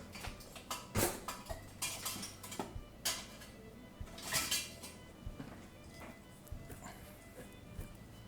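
A utensil stirs dough in a bowl after a teaspoon of salt goes in, giving close, irregular clinks and scrapes against the bowl with short bursts of scraping and quieter gaps between strokes.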